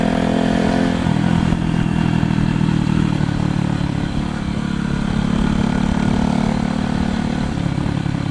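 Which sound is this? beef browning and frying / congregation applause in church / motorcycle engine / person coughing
motorcycle engine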